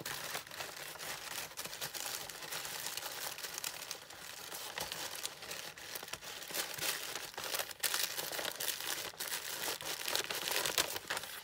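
Paper crinkling and rustling continuously as it is slid back into an envelope close by, a dense papery crackle throughout with no talking.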